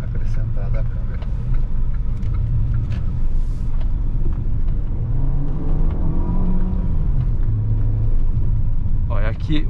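Inside a 2020 Caoa Chery Tiggo 5X on a test drive over rough, potholed asphalt, a constant low road rumble and engine hum fills the cabin, with occasional thumps while people talk.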